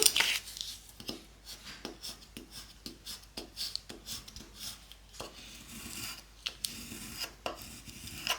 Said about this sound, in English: Then we'll burnish it down.